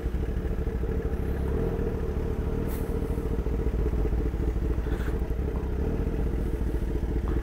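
BMW M4 accelerating along a city avenue, a steady loud engine roar with mechanical clatter and road noise that stays constant and close throughout.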